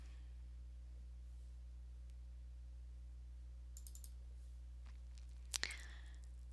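Computer mouse clicks against a quiet room hum, a few faint scattered clicks followed by a sharper, louder pair of clicks near the end.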